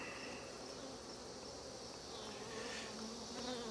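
Honey bees buzzing around an open hive during an inspection, a faint, steady swarm hum with individual bees droning past, no voices.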